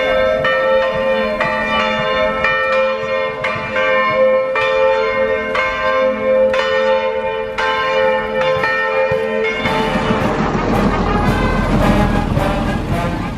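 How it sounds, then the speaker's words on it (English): Church bells ring steadily in overlapping peals, loud and close, then a burst of crowd and band noise from a passing cycling parade swells up beneath them toward the end. "the bells were ringing as they would in every town the parade passed"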